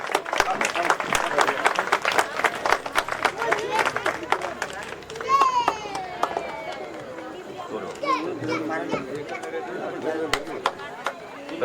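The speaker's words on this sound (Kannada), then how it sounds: "ಜೋರಾದ ಚಪ್ಪಾಳೆ ತಟ್ಟೋಣ" Crowd at a temple fair breaking into a long burst of clapping, dense and irregular, with children's voices and shouting mixed in as the applause fades and voices carry on.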